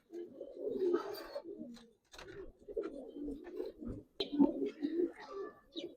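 Coloured Giribaz pigeons at a pigeon farm coo in low, throaty, rolling phrases, close and steady with brief pauses, with faint chirps and a few sharp clicks in between.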